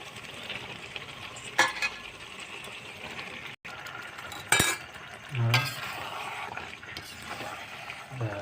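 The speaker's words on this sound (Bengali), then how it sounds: "ভালো করে মশলাটাকে কষিয়ে নেব" Spice paste of chilli and tomato with turmeric powder fries in a pan for a chicken curry, giving a low, steady sizzle broken by occasional clinks and scrapes of stirring, close by with no talk.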